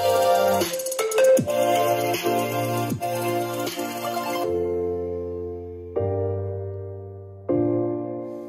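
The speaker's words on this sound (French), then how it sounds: "Voilà, le test au niveau du son pour la JBL Go 3 est terminé." Music blasts from a small JBL Go 3 portable Bluetooth speaker turned up to full volume, a bright, dense mix with steady bass that thins midway, then returns in sharp-edged bursts, heard alone with no talking.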